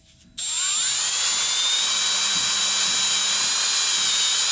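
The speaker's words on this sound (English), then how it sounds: "basically drilling that hole is preparing opening for an extractor" A power drill with a cobalt bit, run at low speed, whines up abruptly and holds a steady, high-pitched grinding tone as it bores a hole into metal during a brake job, loud and close throughout.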